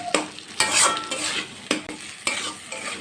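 Spices and a potato filling being stirred and sautéed in a pan for aloo bread pakora, with scraping spoon strokes at a steady rhythm over a continuous close sizzle. No one speaks.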